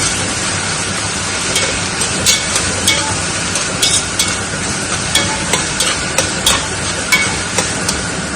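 Mutton pieces frying in a pot for Arabian biryani are stirred steadily, a dense close sizzle with repeated metallic scrapes of the spoon at a regular rhythm.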